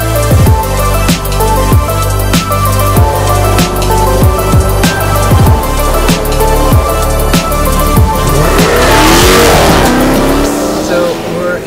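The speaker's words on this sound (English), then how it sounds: "It's such a noisy car. The LT is not a grand touring car. It is a race car. There's no sound deadening. You hear all the road noise," A noisy race-focused car with no sound deadening drives through San Francisco, its engine revving loudly in repeated bursts over constant road roar, with one strong acceleration near the end.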